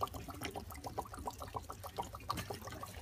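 Warm water drains from the valve of a winterized hot water tank, a steady trickling and splashing stream with small gurgling pulses, fairly quiet and continuous with no talking.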